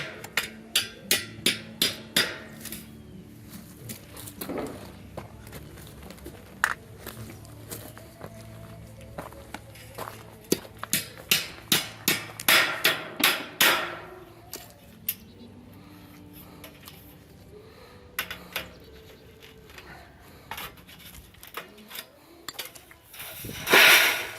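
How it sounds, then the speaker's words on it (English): Landscaping timber nails hammered through the bottom of a vinyl J channel on house skirting, a series of sharp metallic hammer blows in quick bursts with pauses and rustling handling between. "And I hammer through the bottom of the J channel."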